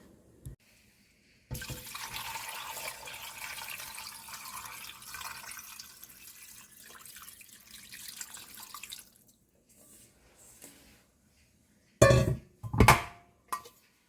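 Filtered water pours steadily into a pot for beef bone soup for several seconds, a hissing rush that tapers off, followed by a few clanks of metal cookware.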